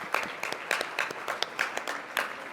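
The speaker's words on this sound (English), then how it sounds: "So a big round of applause for the Bellevue Hotel." A small audience gives sparse, uneven applause in a hotel event room at an awards celebration and fundraiser. The claps come as scattered distinct bursts rather than a dense roar and sound moderately close.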